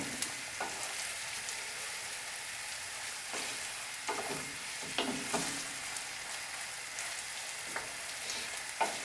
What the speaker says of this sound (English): we'll let the onions keep cooking a little bit longer here